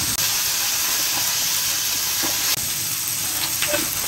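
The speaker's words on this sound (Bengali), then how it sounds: "মাছটা ফ্রাই করে নিচ্ছি।" Fish fries in a pan with a loud, dense, continuous hiss and crackle close up, steady throughout with only brief dips.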